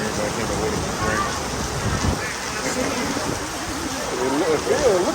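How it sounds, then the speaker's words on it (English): Heavy monsoon-like downpour during a flash flood at a yacht club, a dense continuous roar of rain with wind buffeting the microphone, while people talk over it throughout. "It look like a monsoon"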